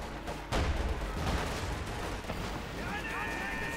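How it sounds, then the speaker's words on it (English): Gunfire and artillery in the World War II strategy game Company of Heroes 2, a dense battle din with a loud burst near the start and steady shooting and blasts throughout, under game tones. "Absolutely some vicious shooting going on there."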